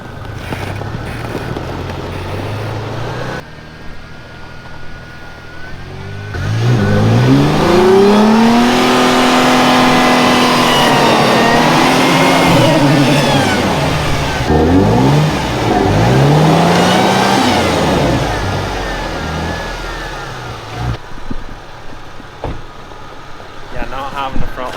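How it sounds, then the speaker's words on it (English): Toyota engine revving as it turns around to tow a van out, rising and falling engine pitch over strong wind buffeting, loud and close. "We're gonna just get the Toyota turned around and hook onto it"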